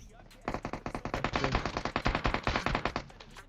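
Rapid automatic UMP gunfire in the video game PUBG Mobile rattles off in a long, dense burst of sharp, evenly spaced shots, loud and close after a brief quiet start.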